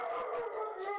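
A dog howls in one long, wavering, mournful note that bends slowly downward, loud and close, with a few higher yips layered over it.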